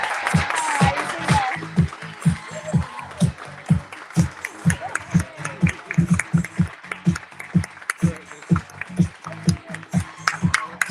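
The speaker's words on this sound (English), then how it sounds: "I think we definitely have to clap again." An audience at a UK and Ireland micro-business awards final claps for the overall winner, a steady run of distinct, moderately loud hand claps that continues throughout with some voices under it.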